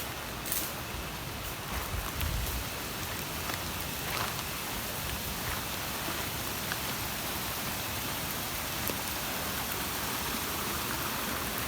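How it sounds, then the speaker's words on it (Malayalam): Waterfall in a Wayanad forest, a steady broadband rush of falling water that carries on without a break, moderately distant and even in loudness, with a few faint knocks on top. "താഴെ ഭാഗത്ത് നല്ല വെള്ളച്ചാട്ടം കാണുന്നുണ്ട്,"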